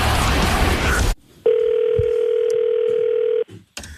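A telephone gives a single steady electronic tone lasting about two seconds, loud and close, following a burst of noisy crowd sound from a wrestling broadcast.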